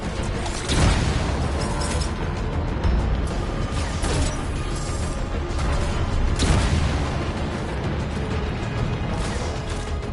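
Bomb blasts in Anthem, two heavy booming explosions several seconds apart, each a sharp broadband burst decaying into rumbling debris over a dense, noisy game backdrop.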